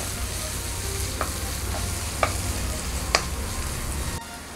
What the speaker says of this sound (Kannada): ದೊಡ್ಡ ಮೆಣಸಿನ್ಕಾಯಿ ಕೂಡ ಸ್ವಲ್ಪ ಫ್ರೈ ಮಾಡ್ಕೊಳ್ಳೋಣ